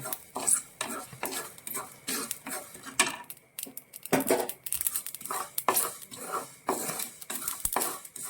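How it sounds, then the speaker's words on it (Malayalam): Fenugreek seeds, about four spoonfuls, roasting dry in a pan for bitter gourd pickle, with repeated close scraping and stirring scrapes of a spoon against the metal and a faint crackle, steady and alone. "4 സ്പൂണോളം ഉലുവ. ഇതൊന്ന് നന്നായിട്ടൊന്ന് മൂപ്പിച്ചെടുക്കണം."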